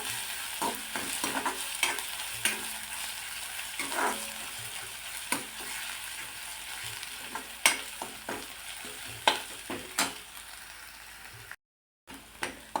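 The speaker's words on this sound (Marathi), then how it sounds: "ही छान परतून घ्यायची तेलावर." Samosa potato filling sautéed in oil in a pan, with a steady sizzle broken by frequent sharp scrapes and clicks of a spoon stirring, and no talk.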